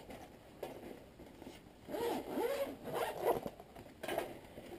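The zipper on a Blackwater double rifle carry case is pulled open in a few quick, close zipping strokes over a quiet background, with no voices.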